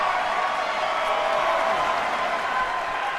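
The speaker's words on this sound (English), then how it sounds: "just like the crowd is loving every bit of it" A virtual arena crowd in the wrestling game WWE 2K19 cheers and applauds in a dense, steady roar that stays loud and continuous throughout.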